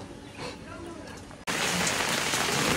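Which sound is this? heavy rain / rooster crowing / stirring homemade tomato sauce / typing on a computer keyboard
heavy rain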